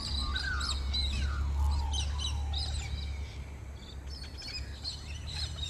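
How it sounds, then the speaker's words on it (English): Cockatoos and other birds calling outdoors on an early morning walk, a chorus of chirps and raucous squawks at moderate distance over a low steady rumble. "All the birds. There are cockatoos over there."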